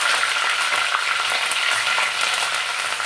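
Curry leaves, mustard seeds and cumin crackle and sizzle steadily in hot oil with ginger-garlic paste, a loud, close, continuous frying hiss with scattered pops and no voices.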